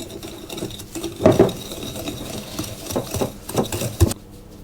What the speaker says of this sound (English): I'm just going to whisk those by hand for about a minute